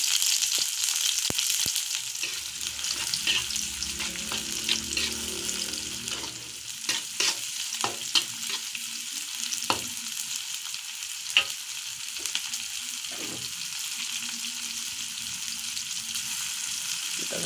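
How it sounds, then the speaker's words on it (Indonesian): A pan of Indonesian yellow spice paste sautés with a steady, close sizzle while a utensil scrapes and stirs it in irregular strokes; no voices are heard. "Ya, kita tumis sampai sedikit menguning"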